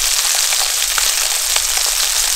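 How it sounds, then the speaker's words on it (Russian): Perch fillets fry in a pan outdoors on a lake island, giving a steady dense sizzle and crackle with occasional pops, loud and close. "С обратной стороны она жарится быстрее, потому что она почти готова уже."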